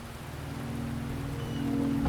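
Steady rain hisses in the video game Wuthering Waves, a continuous wash of falling drops over a low sustained hum, holding even and swelling slightly louder toward the end with no voices.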